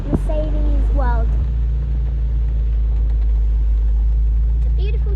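A Mercedes R107 drives along with a steady, loud low rumble heard from inside the car. People talk briefly over the engine noise at the start and again near the end.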